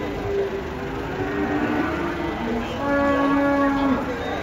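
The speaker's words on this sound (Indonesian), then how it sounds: "Nanti penurunan sapi ngamuk guys." A giant cow being unloaded from a truck lets out a long, loud, drawn-out moo with a rising and falling pitch, heard over constant outdoor rumble and background noise.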